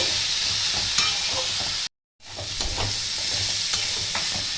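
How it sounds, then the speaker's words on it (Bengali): Ridge gourd and potato pieces fry in a pan with a loud, continuous sizzle and occasional stirring scrapes, cut by a short gap of silence midway. "আর একটু ভেজে নেব।"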